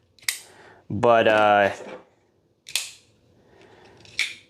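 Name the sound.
Benchmade Griptillian folding knife opening and closing loudly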